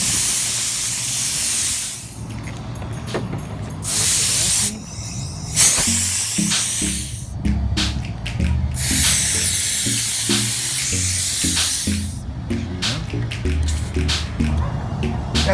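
A tire inflator at a gas station in the USA pushes air into a car tire set to 35, a steady loud hiss and spray broken by short pauses and bursts as the hose is worked.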